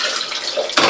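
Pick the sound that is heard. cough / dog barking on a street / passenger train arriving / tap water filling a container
tap water filling a container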